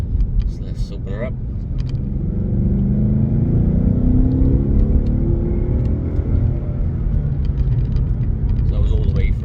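A car engine warmed up on an open National Speed Limit road, revving from about 3,000 to 5,000 rpm during an exhaust test of an H-pipe versus resonator with stock back boxes, a rising rumbling drone after brief talk.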